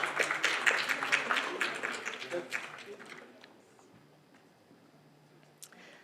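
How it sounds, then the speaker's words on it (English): An audience at a literary festival applauds a memento presentation of a one-of-a-kind photograph of a Nagpur monument, with dense clapping over the first three seconds that fades to a sparse patter and near silence. "So let's have a round of applause."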